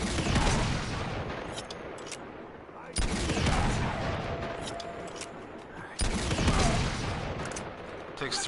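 Rockets and gunfire blast in the action game Uncharted 2 at a monastery, as three heavy booming impacts about three seconds apart, each followed by a rolling roar of rattling gunfire.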